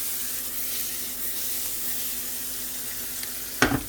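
Onions frying in a pan give a steady, close hiss and sizzle that runs unbroken, ending with a short, sharper clatter as they are stirred.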